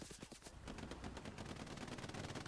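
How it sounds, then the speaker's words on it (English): Rapid bursts of automatic gunfire rattle through a video game tank battle, a dense, continuous stream of close, sharp shots with no pauses. "Gets riddled with bullets"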